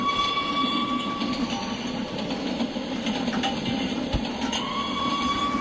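A steam locomotive in a video game, an LMS Duchess class 4-6-2, rumbles steadily along with a continuous mechanical churn and faint clanking, heard close and unbroken throughout.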